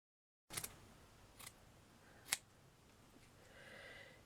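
Scissors cut a piece of felt close by, with a few quiet separate snips and clicks spread over a few seconds in an otherwise quiet room.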